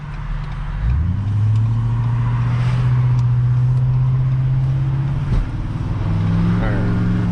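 A Ford Powerstroke diesel truck with its muffler deleted accelerates onto a highway, its loud, raw exhaust drone climbing steadily through the gears, with a brief shift dip before the engine pulls hard again.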